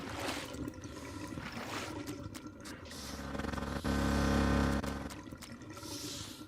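Water rushing and trickling in the drain-cleaning game Drain Sim, a steady flow being pushed toward a pump at a flooded river reservoir, with a louder gushing surge midway before settling back to a continuous wash.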